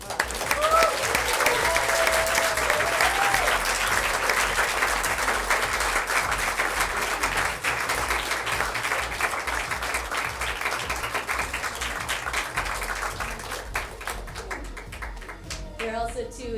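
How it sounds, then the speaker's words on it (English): Theater audience at the North Carolina Stage Company giving sustained applause, dense clapping that fills the room for over fifteen seconds, with a voice speaking briefly near the start and the clapping tapering off at the end. "So if you all would give her a big round of applause."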